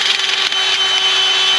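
A 29/64 drill bit cutting through metal during a Chevy 454 big block engine build, giving a steady, loud, high-pitched grinding whine that holds constant without a break.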